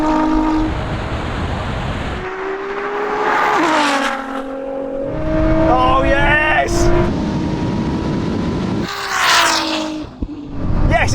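A Ferrari SF90 and a roughly 1000-horsepower Nissan GT-R launch in a drag race, with loud, close engine roars rising in pitch as they accelerate and excited voices shouting over them.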